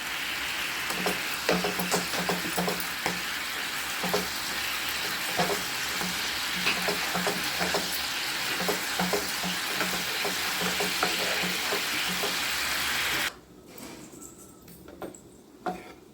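Tamarind pulp simmers and sizzles in a pan with steady bubbling and repeated stirring clicks, close and fairly loud, before dropping to a quiet hiss near the end.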